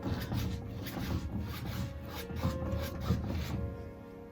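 A bristle brush blends acrylic paint on canvas in quick, repeated scrubbing strokes, close and fairly soft, with no talk.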